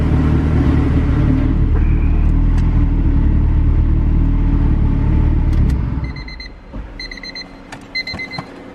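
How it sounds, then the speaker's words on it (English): Honda EK hatch with a built turbo B16 engine idling high, a steady loud low rumble that drops off after about six seconds, leaving faint beeps and small clicks. "Idling really high"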